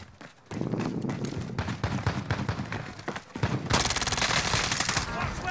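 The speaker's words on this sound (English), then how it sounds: "Oh, somebody's shooting." Rapid automatic gunfire in Call of Duty Warzone, played on a PS4, bursts in loud and fast with dense repeated shots, briefly pauses, then returns as a sustained harsh volley filling the end of the clip.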